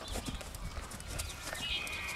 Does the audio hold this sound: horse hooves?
yes